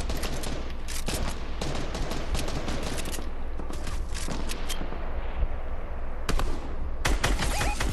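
Video game gunfire in Fortnite Chapter 2 Season 3, with rapid bursts of shots and fusillades crackling throughout, some distant and some closer, dense and continuous with no talk.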